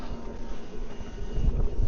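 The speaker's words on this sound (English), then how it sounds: "Look at the wind. Blowing a gale out here and all." Strong gale-force wind blows outdoors at a car repair spot, a steady rushing roar buffeting the microphone throughout.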